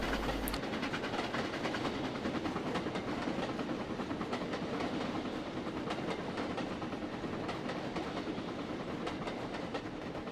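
A train runs steadily on rails, a continuous rumbling roar with faint rhythmic clatter, even in loudness throughout.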